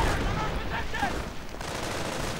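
Gunfire from a World War II strategy video game, a dense crackle of rapid shots and bursts under continuous talk from a commentator.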